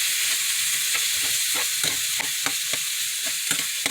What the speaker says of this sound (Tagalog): Ilagay ang sitaw sa kawali. Ilagay mo lahat. Hayaan mo maluto ito.